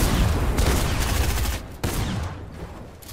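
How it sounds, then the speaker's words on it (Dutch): Dense bursts of gunfire in a first-person shooter video game, loud and close, with a brief break before the rapid firing resumes and then fades. "We hebben van afstand weer geschoten."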